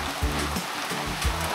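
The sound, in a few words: rain getting heavier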